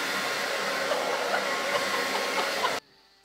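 A hair dryer blows on freshly dyed pink hair. It gives a steady, loud, close airy roar for nearly three seconds, then cuts off abruptly, leaving quiet background.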